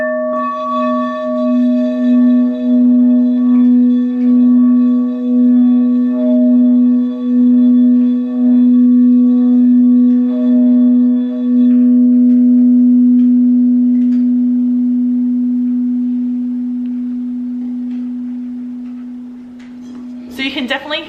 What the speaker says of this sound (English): This is my crystal bowl one.